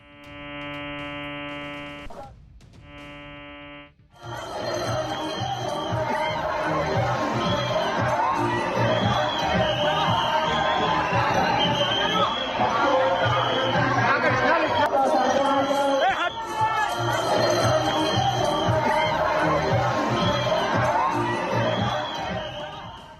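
A dense, loud crowd at the Jagannath Rath Yatra chatters and shouts continuously, with brief tonal beeps before the roar begins and a short dip partway through.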